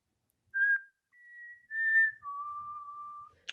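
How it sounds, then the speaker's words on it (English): Someone whistles the four-note Hunger Games tune alone, clear and close, with a short first note, a held second, a third and a long, lower final note. "I need something to whistle."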